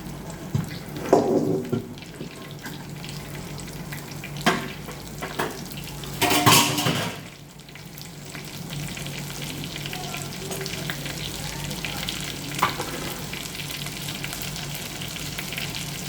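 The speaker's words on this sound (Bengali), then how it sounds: "এবার মৌরি ফোড়ন দিলাম।" Fennel seeds tempering in hot oil, a steady close sizzle throughout with a few sharp stirring scrapes and clatters of a spatula against the pan, no talk.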